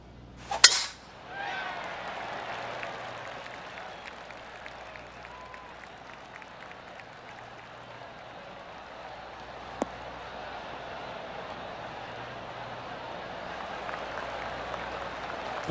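Spectators at a PGA Tour golf event give a soft, polite golf clap, a light patter of scattered hand claps spread across a quiet outdoor course, faint and distant with one sharp tap partway through.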